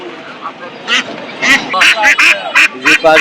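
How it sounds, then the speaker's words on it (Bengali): Domestic ducks quack in repeated short bursts amid a busy poultry market, with people talking and crowd noise throughout. "খুবই চমৎকার দেশীয় হাঁস আসছি ধারাবাজারে"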